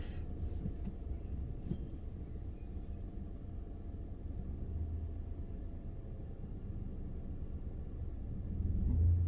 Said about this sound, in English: So when you're ready, get the car going.